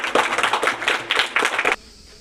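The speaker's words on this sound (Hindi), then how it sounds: "ताली बजाओ ताली बजाओ।" Schoolchildren clap their hands together in a quick, loud run of rhythmic claps lasting about two seconds, then stop abruptly.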